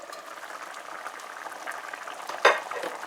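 Steady bubbling and simmering of a pot of thick dal on the stove, with a brief louder clink or stir partway through.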